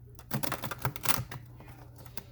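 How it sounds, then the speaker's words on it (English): Soft, rapid riffling of tarot cards being shuffled nearby, a quick flurry of papery flicks that trails off into a faint hum. "One more shuffle."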